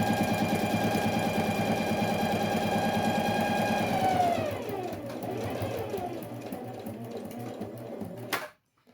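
A sewing machine runs steadily while stitching a school pencil case, then its motor slows and winds down before stopping abruptly.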